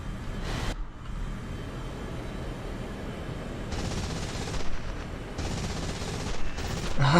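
Cannon fire from a MiG-19 jet in War Thunder rattles out in several short bursts over a constant engine and cockpit drone, moderately loud with brief pauses between volleys.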